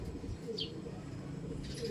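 Soft bird calls, a brief chirp and a low coo, rise faintly over a constant outdoor hiss and background noise.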